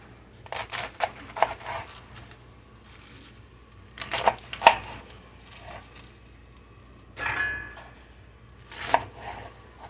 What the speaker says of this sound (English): I'm going to cut this up.